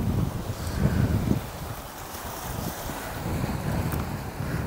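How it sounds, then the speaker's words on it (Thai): Strong sea wind on the Danish coast buffets the microphone in uneven gusts, a rough, fairly quiet rush with surf-like noise beneath and no voices. "ลมแรงแรงจ้าวันนี้ทะเลเดนมาร์กลมแรง"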